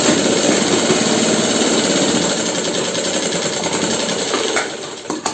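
A sewing machine stitches the gusset of underwear with a continuous fast mechanical rattle, loud and close, running steadily before slowing near the end.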